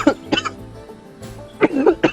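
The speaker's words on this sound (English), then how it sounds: "excuse me if I do cough a little bit during this video" A person coughs several times during a Planet Zoo building session: two quick coughs at the start, a pause, then two more close together, with faint background noise between them.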